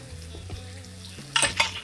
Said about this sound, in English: I got the rest of my vegetable stir fry going.